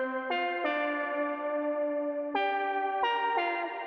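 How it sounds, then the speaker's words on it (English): Analog synth notes with a shimmering chorus effect, a sustained tone changing pitch a few times, clear and alone. "I have this chorus here, which is pretty straightforward. You can hear it."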